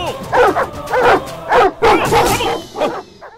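A dog in a Telugu movie comedy scene barks and yips in a rapid burst of about six loud, close barks.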